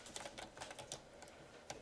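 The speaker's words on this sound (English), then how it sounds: "or I just have to type it all in again." C++ code being typed on a computer keyboard, with quick, irregular clusters of soft key clicks and a few louder taps. The typing is steady and close and there is no speech.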